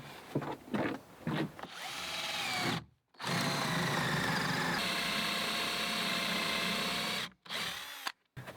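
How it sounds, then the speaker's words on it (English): A power drill bores holes into the wooden backrest of a porch bench, whining steadily and close in two long runs, with short bursts and stops between them, no talking. "I'm making these bore holes so I can screw the backrest in from the front"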